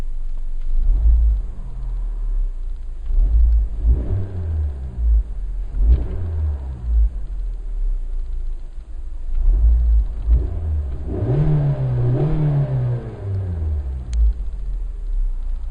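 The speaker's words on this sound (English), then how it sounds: "And we'll see how the Suzuki Swift sounds." A 2014 Suzuki Swift Sport's engine and exhaust being revved while parked, with several short throttle blips followed by a longer, rising rev that falls back to a steady idle rumble, close and loud.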